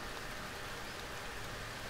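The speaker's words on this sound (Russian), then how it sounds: "Долго будет еще дождь идти" Steady, dense rainfall in the jungle in the video game Green Hell, hissing evenly throughout, a constant wash of patter with no talking.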